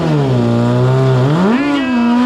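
A car engine screams at high RPM during a burnout, the steady harmonic pitch holding, then climbing sharply in a loud rev near the end, close and continuous with no talk.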